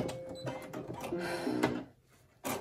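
A Brother SE1900 embroidery machine sews an applique placement stitch on a baby onesie, a close, steady mechanical whir with rapid needle chatter that drops away briefly near the end before resuming.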